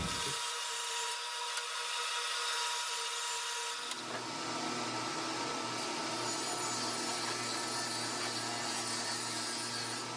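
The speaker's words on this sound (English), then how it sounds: "Now we're cutting down our boards with a crosscut sled." Boards are crosscut on a saw fitted with a crosscut sled while building floating nightstands with storage drawers: a quieter stretch of whirring gives way to a loud, steady cutting roar that continues to the end.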